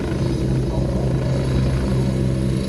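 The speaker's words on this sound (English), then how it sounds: "up on Airshow World right now, it's helicopter time" Helicopter at an airshow, a loud, close, continuous rotor thump with steady engine whine and no voices.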